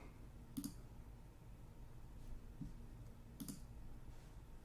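Sharp computer mouse clicks sound close and quiet, two distinct double clicks separated by a faint, soft tap over a hushed background.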